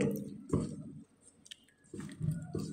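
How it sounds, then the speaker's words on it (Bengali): Mango pulp squished and mashed by hand in water, giving soft wet squelching bursts with a quiet pause in the middle, close and fairly faint. "তো আমের পালগুলো আমি ঠিক এভাবে হাত দিয়ে দিয়ে একটু ভালো করে চটকে নিলাম"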